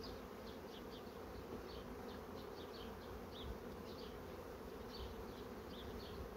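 A honeybee colony hums at the hive, a steady close drone of many bees with occasional higher individual wingbeats passing near, continuous and even throughout with no talking.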